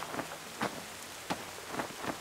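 Steady rain falls in the horror game Devour at the farmhouse level, a soft continuous patter with a few brief louder splashes or rumbles rising over it, no talking.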